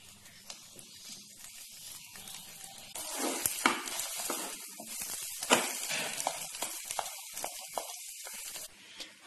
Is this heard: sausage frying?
yes